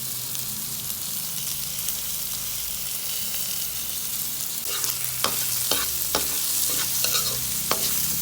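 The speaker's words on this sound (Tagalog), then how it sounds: "Ito guys, oh, nahalo ko na para lalong sumasarap po yung mga ingredients guys." Tomato and ginger sauté for squid adobo, giving off a constant close sizzle. Scraping and clinking of a utensil being stirred through the pan comes in during the second half.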